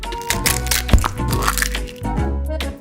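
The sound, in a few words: egg being cracked into a bowl of flour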